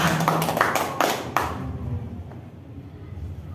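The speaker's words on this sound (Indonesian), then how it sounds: "Tepuk tangan buat mereka semua" A short burst of clapping with a few sharp claps standing out, fading quickly into room noise and low murmur.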